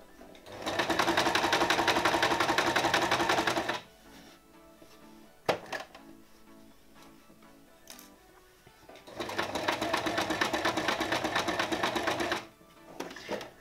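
A sewing machine stitches fabric in two sustained bursts of fast, even mechanical whirring, with a short backstitch pause and a few quiet clicks between them.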